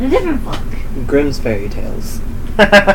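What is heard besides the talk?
No everyday noises stand out.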